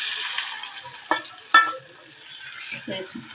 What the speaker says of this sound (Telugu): ఇది నిన్న గోంగూరకు పోపు రుద్ది పోపు ఎలా వేసుకోవాలో చూపిస్తాను.